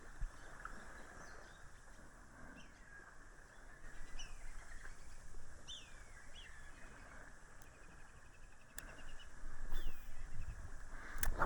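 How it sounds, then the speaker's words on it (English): Small birds chirp and tweet intermittently in the distance beside a lake at Hume Lake, faint high calls over a low steady outdoor background of water and breeze. "Love the sound of those birds."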